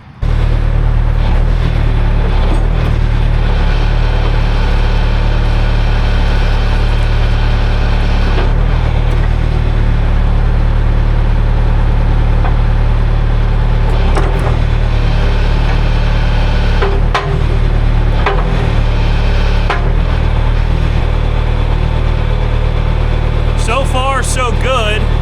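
John Deere Extenda-Hoe backhoe idling with a steady, loud low engine rumble throughout, while the hydraulic curl moves with faint strained whine and occasional clunks, under a person talking.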